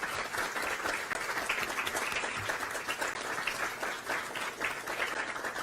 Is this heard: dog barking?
no